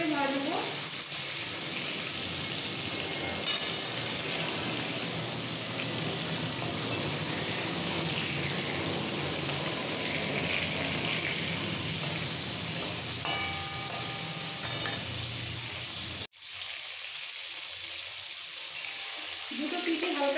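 Prawns frying lightly in oil give a steady, even sizzle that runs for a long stretch, cut off suddenly near the end and resuming more quietly with faint background noise.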